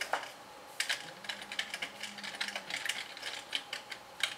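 Rapid clicking of keys on a computer keyboard, an uneven run of close, light taps with no voices.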